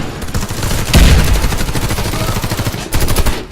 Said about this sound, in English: that guy just killed me with a shotgun